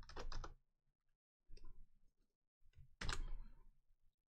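A few quick bursts of keystrokes on a computer keyboard, short clustered clicks separated by brief pauses, close and quiet with no talking.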